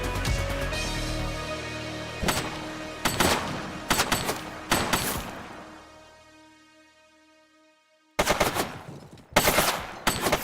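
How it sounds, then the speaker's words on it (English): Bursts of gunfire in The Precinct, a police video game, come as sharp, loud volleys with a decaying tail in between, then heavy renewed shooting near the end. "She's shooting!"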